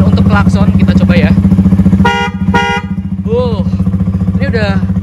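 A custom motorcycle horn blares in two loud, short honks, close by and over a motorcycle engine idling with a steady throb; someone talks briefly afterward.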